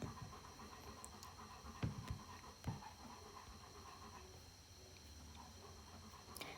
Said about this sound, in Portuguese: Talvez esteja dando para ouvir a respiração do meu cachorro.